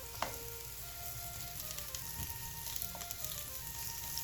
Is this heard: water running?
no